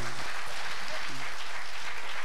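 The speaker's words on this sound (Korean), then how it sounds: "박수 한번 부탁드리겠습니다." An audience at a Korean talk show about overcoming social anxiety bursts into loud, steady applause filling the room, with a few cheers and a voice briefly heard over the clapping.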